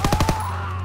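Short burst of about four rapid machine-gun shots in Call of Duty WW2's D-Day battle, loud and close, followed by a steady low rumble with no talking.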